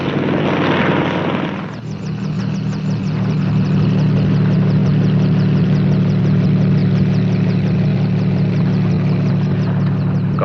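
A helicopter engine in a 1957 film drones loudly and steadily, with rotor blades chopping in a fast, even rhythm throughout.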